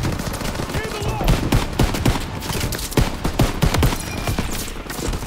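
Machine gun fire in Call of Duty WW2 during the Battle of the Bulge, with rapid bursts of cracking shots and booming impacts over a constant battlefield din.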